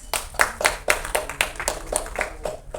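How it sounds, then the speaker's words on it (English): An audience at a trailer launch claps in a loose, fairly close patter of individual hand claps, some landing together in rough beats, continuing at a moderate level throughout. "A big round of applause please."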